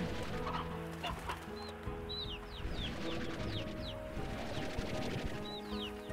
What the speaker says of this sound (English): We got a lot of chicks though.